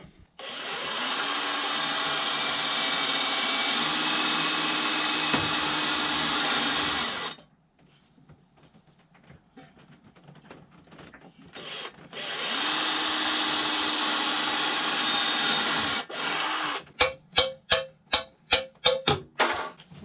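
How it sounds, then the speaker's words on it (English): A power drill whines steadily for several seconds, stops, then runs again, followed by a rapid series of short sharp bursts as rivets give way on a ZX10 motorcycle frame. "I'm going to drill out the rivets so I can spray around this without masking it up."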